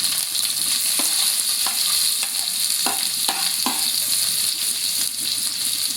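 Onion added to a pan of cumin and garlic and frying in oil, a constant loud sizzle with intermittent clicks and scrapes as it gets stirred.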